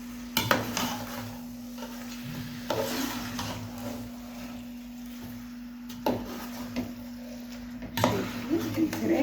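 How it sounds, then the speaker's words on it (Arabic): Chicken is stirred into a spice mixture in a pot for Saudi chicken kabsa. A spoon scrapes and clanks against the pot in irregular knocks over a low steady hum. "هبدا انزل بيها بقى في الخلطه دي كده بالشكل ده."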